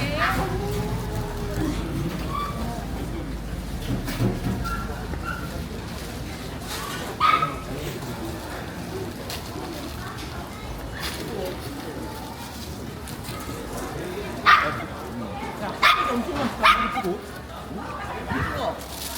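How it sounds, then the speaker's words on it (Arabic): At a busy night street market in Seoul, a hungry dog barks and whimpers in a few short bursts, partly masked by steady crowd chatter and street noise. "هذا الكلب جوعان"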